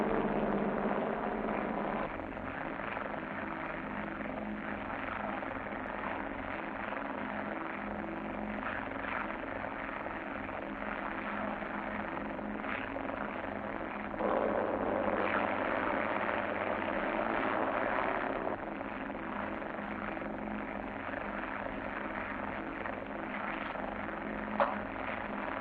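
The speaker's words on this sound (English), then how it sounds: "Touchdown on course, going 50 feet low on glide path." Steady aircraft engine drone from an airlift transport plane on a radar-guided landing approach, with a continuous broadband hum and buzz throughout and a slight rise in level near the middle.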